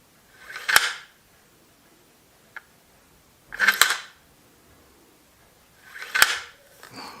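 A smooth-gliding rifle bolt is worked three times, each cycle a close, sharp metallic slide and snap spaced a few seconds apart, with a faint click between the first two and quiet in the gaps.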